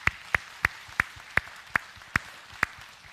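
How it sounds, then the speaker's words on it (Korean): A church congregation at a Sunday morning service claps in slow, steady unison, about eight sharp, evenly spaced claps ringing in the room. "우리 하나님께 영광의 박수 올리겠습니다."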